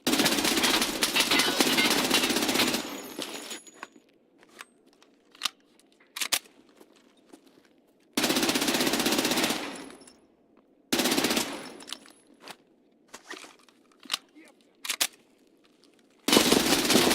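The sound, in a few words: gunfire in the video game Escape from Tarkov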